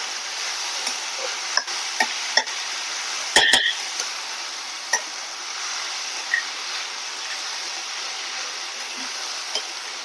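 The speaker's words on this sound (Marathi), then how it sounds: "आणि आता हे छान मिक्स करते." A spoon stirs momo filling with black pepper powder and asafoetida, making a steady soft scraping hiss broken by a few light clinks against the bowl.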